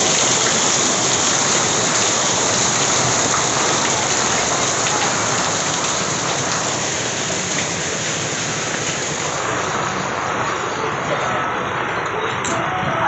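Heavy rain pours in a loud, steady roar of drops hammering a surface, continuous and close throughout with no clear talk.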